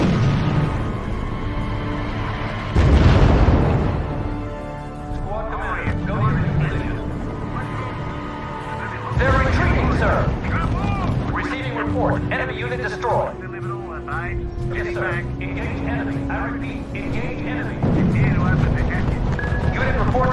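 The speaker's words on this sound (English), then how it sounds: "Our units are under fire." Gunfire and explosions in the video game R.U.S.E. come as repeated loud booms and bursts of shooting, with radio voices talking over much of the battle.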